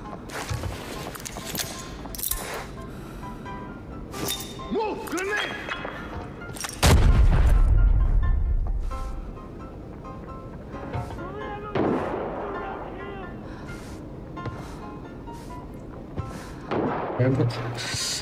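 A heavy bomb explosion in the shooter game Arena Breakout, a single deep booming blast partway through that rumbles and fades over a couple of seconds, amid game ambience, footsteps and someone talking.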